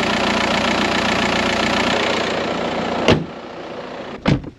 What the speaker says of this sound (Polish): Niech samochód sobie troszeczkę pochodzi.